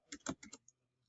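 Quick keystrokes on a computer keyboard, four or five close, soft clicks in a short burst followed by a single lighter tap and quiet.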